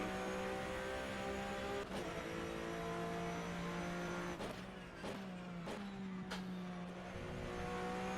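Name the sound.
Porsche Cup race car engine in rFactor 2 racing game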